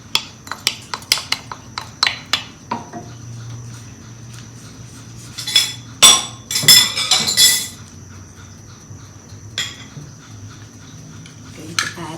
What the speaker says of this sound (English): First, I shall add the cumin seeds and mustard seeds and the curry leaves.